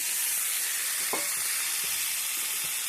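Chicken pieces fry in a pan with browned onions, under a steady loud sizzle and hiss. Several soft stirring scrapes and taps come through close by.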